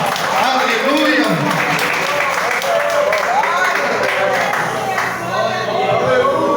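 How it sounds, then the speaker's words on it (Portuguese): A church congregation applauds, sustained dense clapping mixed with loud voices and cheering throughout. "aplaudam o Senhor"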